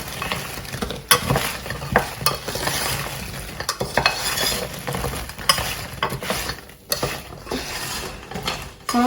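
Roast potatoes being tossed in a spice mix, with loud, close scraping and rattling as they are stirred and shaken in a pan, and a sizzle running underneath.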